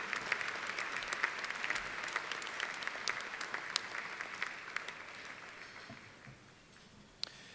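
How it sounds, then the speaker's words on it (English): A hall of fame induction ceremony audience gives a steady round of applause, dense even clapping that fades slightly toward the end, heard from a distance and fairly faint. "A big round of applause for Ken Stolt, our Dick Gallagher Legacy Award winner."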